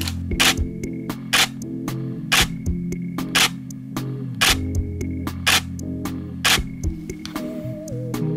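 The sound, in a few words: Nikon D780 DSLR shutter sound, viewfinder shooting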